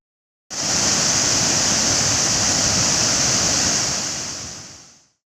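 A loud, steady roar of river water rushing through opened dam shutters on the Bharathapuzha at Ottapalam starts abruptly and holds constant before fading out, like a strong torrent pouring through a channel.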